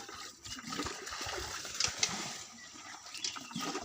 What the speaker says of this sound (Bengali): জমির কানিতে পানি জমে আছে, সেচে পুকুরের ভিতর দিয়ে দিচ্ছে